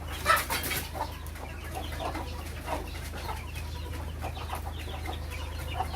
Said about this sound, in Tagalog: Ngayon, ito mga ibon.